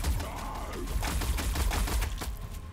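A pulse cannon in the game Warhammer 40K Battlesector lets off a rapid, clattering volley of sharp repeated shots with thumping low impacts, loud and close, lasting a few seconds.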